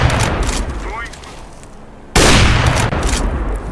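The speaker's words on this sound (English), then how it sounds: "So here's just a few shots of me sniping away." Loud sniper rifle shots in Counter-Strike: Global Offensive, with a sharp blast near the start and a sudden loud report about two seconds in followed by ringing decay, mixed with game sounds.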